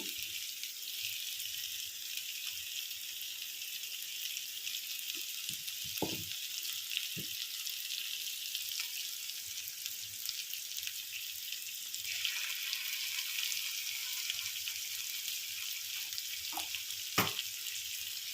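Eggplant curry with onion-chili masala and gravy sizzles steadily in a pan, a soft continuous hiss with a few faint stirring clinks, no voices.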